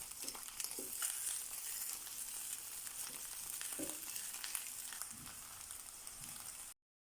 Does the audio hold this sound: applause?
no